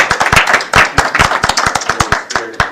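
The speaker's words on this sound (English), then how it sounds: "Just do a clap." Sharp, distinct claps from a small group at a city council meeting, close and loud with an uneven rhythm, quick bursts of separate hand strikes over a couple of seconds.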